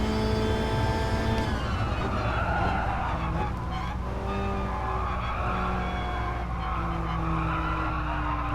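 A high-torque car in a sim racing video game slides under throttle steer, its engine whining loudly and continuously with pitch shifts and tire skid noise throughout, no talking.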